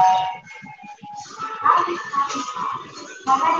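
A small dog in a Japanese shopping mall gives rapid high yips and whimpers, close and fairly loud, over busy indoor background chatter.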